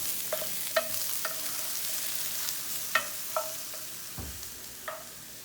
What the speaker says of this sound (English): while our mushrooms and garlic are sauteing